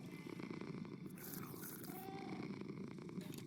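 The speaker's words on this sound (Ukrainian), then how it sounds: "У мене вже там коти мурчать." Cats purr in the Minecraft video game, a continuous soft rumbling purr over faint background game sounds, with no talking.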